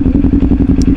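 Kawasaki Ninja 400 motorcycle fitted with a LeoVince slip-on exhaust, heard up close and loud at a bike meet as a deep, throbbing idle with rapid regular pulses, no talk.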